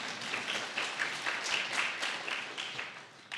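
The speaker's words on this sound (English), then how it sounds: "Yeah, we can clap." Audience applause at the Walter Cronkite Awards show, a dense continuous wash of many people clapping in a hall, steady and moderately close with slight swells.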